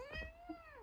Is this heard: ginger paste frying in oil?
no